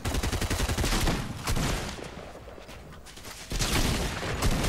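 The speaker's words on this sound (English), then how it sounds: "There's a lot of shooting going on." Rapid gunfire in the video game Fortnite, loud bursts of automatic shots in quick rhythm, pausing briefly before another volley resumes.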